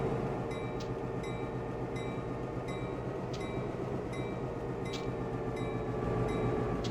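A freight train backing up in Train Simulator 2014 on the Stevens Pass route gives a steady low rumble and hum, with a few brief high squeals and clanks scattered over it and no voices.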